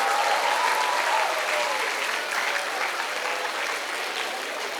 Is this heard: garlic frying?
no